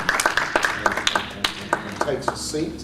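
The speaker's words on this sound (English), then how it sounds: "give Dallas a round of applause" Studio audience applause at a live interview show, scattered rhythmic clapping running steadily under a voice speaking over it.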